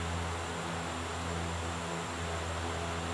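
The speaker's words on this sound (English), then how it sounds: "X-Plane rain there." Rain falls on an aircraft in the X-Plane 12 flight simulator game, with steady broadband hiss and a low engine drone underneath, continuous and fairly loud with no voices.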